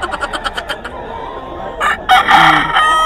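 Roosters crow repeatedly at a chicken seller's stall in Bocaue, Bulacan, where young stags are sold, several loud calls overlapping and close by, with clucking in between.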